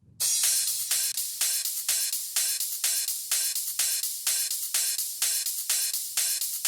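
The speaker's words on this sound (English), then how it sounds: "we've got the initial crash hit. We got the crash in the 4 on the floor ride pattern going with the snare" A programmed drum pattern opens with a crash hit, then a steady four-on-the-floor ride with snare carries on as evenly spaced, bright cymbal-heavy hits at a constant tempo, with no other sounds.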